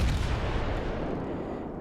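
Rear guns of a warship in World of Warships let loose a heavy, booming blast that rolls into a long, fading rumble, loud and without speech.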